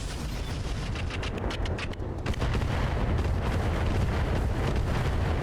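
Mech weapons firing in the BattleTech video game, a dense barrage of booming blasts and rumbling impacts, loud and continuous with rapid pulsing bursts early on.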